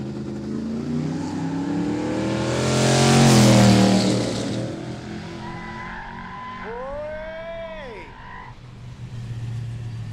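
A drag racing car at a street drag day roars through a swelling rev and then briefly spins its tyres in a rising-falling whine, heard at moderate distance over steady crowd and engine background.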